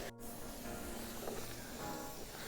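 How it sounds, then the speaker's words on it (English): Spray gun applying a thick coat of Cerakote to a 2002 Yamaha YZ426F motorcycle frame, reaching into the welds and tight inside areas. A steady, close airy hiss runs unbroken throughout, with no talking. "spray on a nice thick coat to these areas, especially any of the welds"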